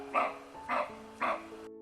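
A roe deer gives dog-like barking alarm calls, three short, sharp barks about half a second apart, fairly close and clear against a quiet background with faint tonal sounds underneath.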